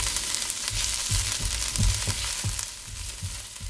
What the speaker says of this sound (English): Add your chilies and fry until fragrant.